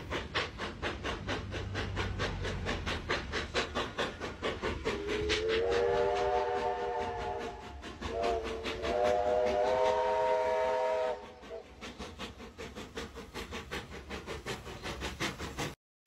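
A train rumbles along steadily on a spring daffodil excursion while its whistle sounds in two long, tonal blasts, moderately distant, with clattering rhythm underneath.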